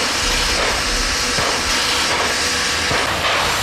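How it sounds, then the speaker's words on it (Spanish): Powerful JS class 141 Mikado steam locomotive No. 8278 pulling out of the Baotou depot sheds: a loud, continuous roar of hissing steam with faint rhythmic chuffs and clanks running beneath. "Esta es una potente máquina de la serie JS tipo 141 Mikado, la número 8278, saliendo de los cocherones del depósito de Baotou"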